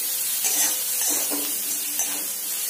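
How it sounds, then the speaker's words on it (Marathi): Vegetables for pasta stirred in a hot pan, a continuous close sizzle with a few soft scraping strokes of the spoon at irregular intervals, no talking. "हलवून घेणार आहोत आपण या ठिकाणी"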